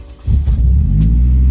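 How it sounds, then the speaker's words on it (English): A 2011-2016 Scion tC engine cranks and catches, settling into a steady low idle rumble close by. "we're just gonna real quick start the car"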